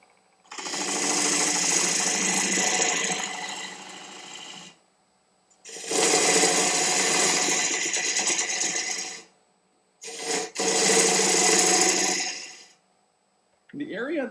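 Woodturning lathe tool cutting the tenon shoulder on an ebony mulberry wood bowl, three sustained bursts of dense, rasping cutting noise separated by short pauses, with someone talking.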